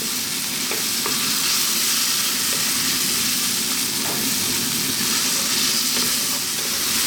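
A pan of pasta sauce with black pepper and salt sizzles and fries steadily over lively heat, a dense continuous hiss up close with occasional stirring clinks.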